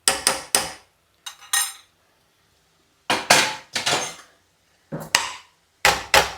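Carrot halva being mixed with ghee in a pan, heard as sharp metallic clanks and scrapes of a spoon against cookware in separated bursts with silent gaps between them, close and fairly loud.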